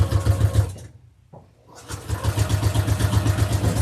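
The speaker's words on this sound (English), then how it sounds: "I'm going to sew all the way down to connect these two sides." A sewing machine stitches down the sides of a fabric gift bag made from scraps, its rapid rhythmic motor whir loud and close, pausing briefly before running steadily again.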